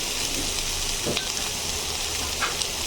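Capsicum and tomato sizzle in a hot frying pan with a steady, close, broadband hiss of frying, with faint stirring clicks and no talking.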